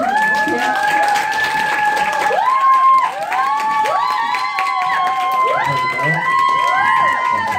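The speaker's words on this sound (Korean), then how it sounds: "여러분들이 큰 박수로 맞아주시면 더 많은 꿀팁을 주실 겁니다" An audience at a business seminar welcomes a speaker with applause and cheering, loud clapping beneath rising, whooping voices that call out repeatedly and close by.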